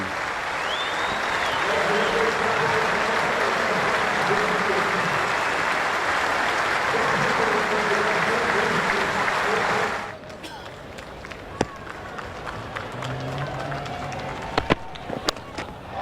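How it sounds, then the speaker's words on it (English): A Test cricket crowd in an Australia versus New Zealand match stands applauding Kane Williamson, a dense sustained roar of clapping that cuts off abruptly partway, leaving quieter ground ambience with scattered sounds. "The crowd will stand for Kane Williamson."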